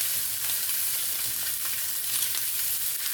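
Dr Pepper sausages sizzling in a pan on a stovetop, a loud unbroken hiss and spatter with small pops, close up and steady for the whole moment.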